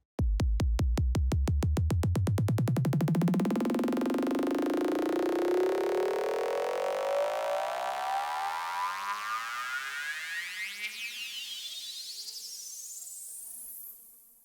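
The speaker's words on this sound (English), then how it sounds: "After adjusting the volume of our newly created riser FX, let's hear what it sounds like" A synthesized psytrance riser: a buzzy tone sweeps steadily upward in pitch over about fourteen seconds, starting as a low pulsing rattle and rising into a thin, bright whine that fades slightly near the end, heard alone.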